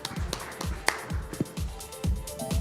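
Audience members clap for a panel moderator at the Outlook Money Conclave 2020 personal finance event, producing sparse, uneven claps from a modest crowd that come as scattered sharp hits rather than a full roar.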